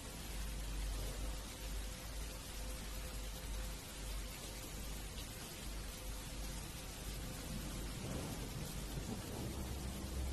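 Rain pouring steadily through a night thunderstorm, a broad continuous wash of falling water with a low rumble of thunder underneath, constant in level from start to finish with no voices.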